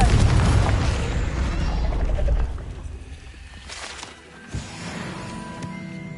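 The Confringo fire spell cast in Hogwarts Legacy, a loud whooshing blast that fades into a rumbling tail, followed by a quieter thud and softer ambient crackle.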